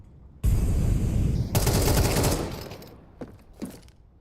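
Dense automatic gunfire from an esports shooter match, a loud sustained burst that swells sharply midway, then trails off into a few scattered isolated shots near the end.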